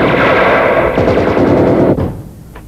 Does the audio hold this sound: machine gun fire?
yes